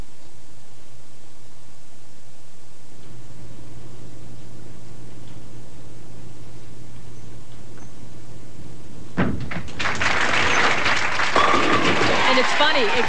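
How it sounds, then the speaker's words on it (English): A bowling crowd at the 1998 WIBC Queens women's tournament breaks into hesitant, moderate applause after a long, quiet stretch of low room murmur, and the clapping keeps going to the end. "They were very tentative just now with their applause."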